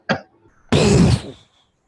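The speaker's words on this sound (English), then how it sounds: "Clear your throat." A man clears his throat on request: a short sharp cough-like burst followed by a longer, louder raspy rumble lasting about half a second, close and alone.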